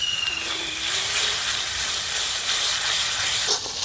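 A small splash of water meets hot frying ground garam masala and turmeric in a pan, producing a loud, steady steam hiss that continues evenly throughout with a faint higher whistle early on.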